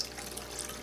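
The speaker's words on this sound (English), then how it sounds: "that way I can rinse out the filter in there" Water runs steadily from a tap while an aquarium filter is rinsed during a water change, a continuous soft hiss close by with no talking.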